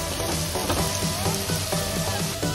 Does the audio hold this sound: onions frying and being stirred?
yes